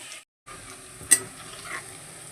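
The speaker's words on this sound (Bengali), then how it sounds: "রসুনটা একটু লাল লাল করে ভাজা ভাজা হবে" Garlic frying in oil, a soft steady sizzle broken by a brief gap and a sharp utensil clink midway, no talking.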